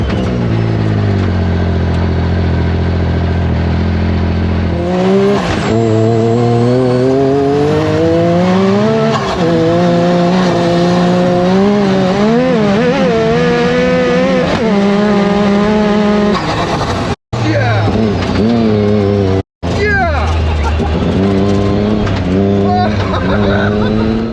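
Yamaha YXZ side-by-side racing over the St. Anthony sand dunes during a group gathering, its engine revving loud and close with rising and falling pitch through gear changes, plus brief cutouts, and a voice speaking over it.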